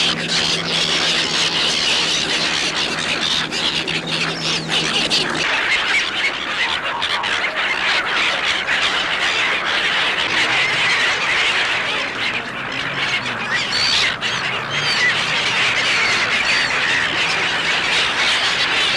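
A crowd of hundreds of waterfowl at a sanctuary squawks and quacks at feeding time, a dense, continuous, loud chorus of overlapping calls with a narrator's voice heard over it at first.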